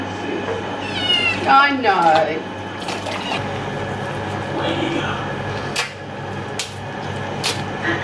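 A cat meows indoors in a series of rising, wavering calls about a second long, followed by a few sharp knocks and clatters, with quieter household noise around it.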